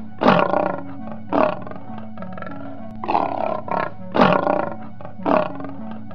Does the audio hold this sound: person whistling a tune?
no